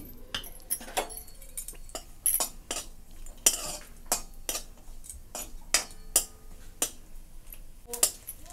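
Grated coconut roasts in a little oil in a pan for a spicy brinjal curry, a spoon clicking and scraping against the metal in a steady run of sharp taps over faint sizzle, with no voices.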